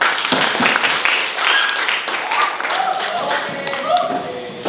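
A classroom audience claps in a dense, fairly loud patter of hand claps for several seconds, with voices and scattered speech mixed under the clapping.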